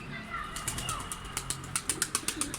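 A stray pigeon flaps its wings as it lands, giving a quick, rhythmic run of soft wingbeats that grows clearer toward the end, faint against a quiet outdoor background.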